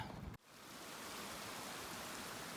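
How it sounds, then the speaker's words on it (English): A Rocky Mountain creek streams along in a steady, even hiss of flowing water after a brief cut near the start, moderately close and uninterrupted, with no talking. "you have to cross this creek and then get to the bigger creek"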